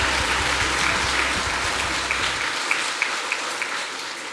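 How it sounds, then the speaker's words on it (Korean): Church congregation at a Korean church service applauding in glory to God after a worship song, a steady wash of clapping with a low hum that drops out midway and a few sharper claps standing out. "우리 하나님 앞에 영광의 박수 올려드리겠습니다."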